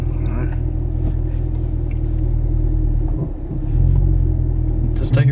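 A Chevrolet SS Camaro with a manual gearbox rumbling at low revs while a learner driver practices pulling away, its deep steady engine drone swelling slightly toward the end, with voices talking over it.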